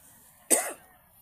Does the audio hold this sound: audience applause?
no